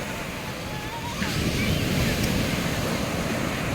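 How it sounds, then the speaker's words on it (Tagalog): Ocean surf rolls onto Tiwi beach in Legazpi, Albay, Philippines, as a continuous broad roar mixed with wind buffeting, swelling louder partway through. "Grabe yung alon."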